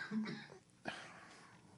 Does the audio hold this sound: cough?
yes